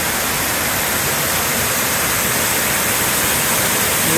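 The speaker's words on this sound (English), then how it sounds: "Waterfalls everywhere inside these caves." A waterfall inside a cave pours with a steady, dense broadband rush, loud and unbroken throughout with no other sounds.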